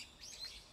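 Birds chirping in the background, a brief faint high tweet over quiet room tone.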